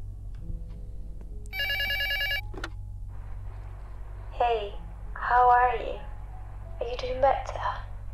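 A telephone in a Spanish villa in the video game Luto gives a single bright electronic ring burst lasting about a second over a low steady hum, followed by a voice speaking softly.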